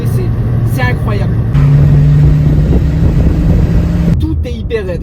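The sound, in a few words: Ford Focus ST WRC rally car engine while driving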